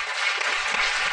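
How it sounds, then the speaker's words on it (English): Audience clapping at a gospel service, a short, dense burst of steady applause at moderate level with no clear voices. "we got some claps in there"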